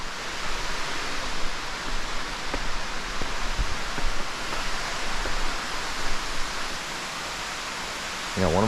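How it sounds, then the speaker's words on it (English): An underground waterfall inside a deep cave gives a steady, dense roar of rushing water that fills the space evenly and stays loud throughout, with a few faint knocks and no clear speech. "Sounds like a separate waterfall over here too."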